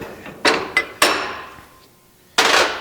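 A bushing being driven into a 350 transmission valve body with a driver: four sharp metallic taps in an uneven rhythm, close and fairly loud, each ringing briefly before fading, with a quiet gap before the last strike.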